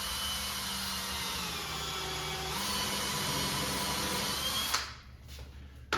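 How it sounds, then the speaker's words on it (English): Power drill with a countersinking bit boring into old, flaking particle board inside an arcade cabinet, a loud continuous whirring grind that steps in pitch before stopping, then brief handling noises. "that's a countersinking bit."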